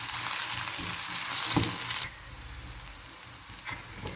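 Green chillies and onion fry in a hot pan with a steady broadband sizzle, loud for the first two seconds and then settling to a quieter crackle with a few soft pops.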